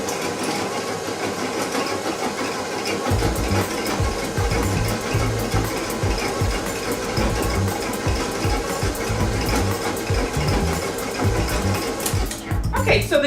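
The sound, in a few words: mixer lightly mixing ginger into rum raisin gingerbread batter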